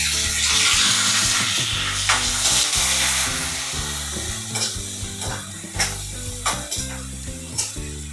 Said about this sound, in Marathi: असं छान परतून घ्यायचं आणि थोडंसं मी पाणी टाकून घेते फोडणी जळू नये म्हणून